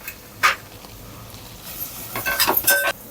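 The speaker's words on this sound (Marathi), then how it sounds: "आता हे तुपावर जरा परतायचं आहे आपल्याला" Grated pumpkin being stirred in hot ghee: a spoon scrapes and taps the pan in a few brief strokes over a soft sizzle, close and moderately loud, with no talking.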